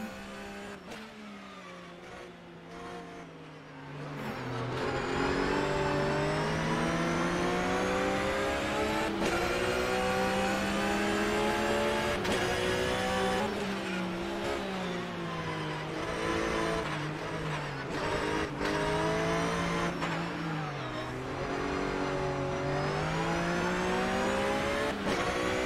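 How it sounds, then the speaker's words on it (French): Race car engine from a sim racing game lapping the Paul Ricard circuit in a Flat 6 eRacing championship round, revving loudly and continuously, rising and falling through gear changes, with a quieter idle in the first few seconds. "on va aller faire un tour embarqué avec Ludovic Ferrui pour découvrir le circuit"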